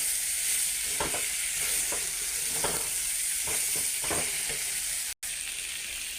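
Biuli dal, black lentils, fries in a pan with a soft, steady sizzle while a spoon stirs it in a series of scraping strokes at an uneven rhythm, ending after a brief dropout.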